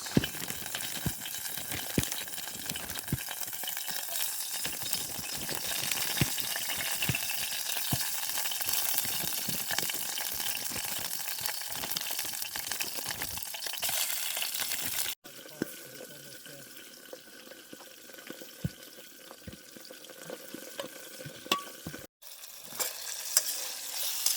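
Chinese sausages sizzle and crackle steadily in a pan at a campsite in the woods, a close, continuous frying hiss with faint stirring, interrupted by a couple of brief cuts.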